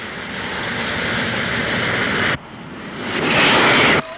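Enemy fighter aircraft sweep in fast and low, a loud, steady roaring rush that cuts off abruptly, then swells again and ends sharply.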